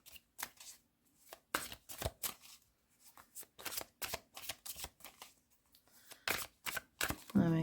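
A deck of tarot cards shuffled by hand, a series of close, crisp riffles and flicks in uneven bursts with short pauses, quiet and alone without talk.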